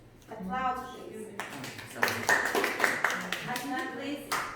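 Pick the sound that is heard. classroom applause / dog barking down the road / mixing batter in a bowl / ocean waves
classroom applause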